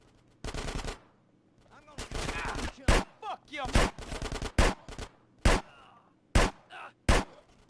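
Desert Eagle pistol gunfire in GTA San Andreas on PS2, a burst-heavy sequence of sharp loud shots in irregular clusters with brief gaps, plus faint game voices between.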